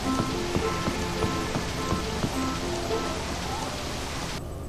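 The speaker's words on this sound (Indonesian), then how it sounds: "Dan sekarang cuacanya lagi hujan." Steady rain patter in the video game Harvest Moon Animal Parade, a dense even hiss with soft droplet ticks and a faint repeating musical loop underneath, running continuously with no talk.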